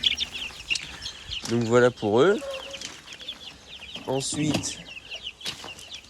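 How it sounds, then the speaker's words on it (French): Small ash-grey hens clucking close by, a few rising, warbling calls and short cackles among farmyard chirps, with someone speaking over them. "C'est des petits poussins cendrés, enfin poules cendrées quoi."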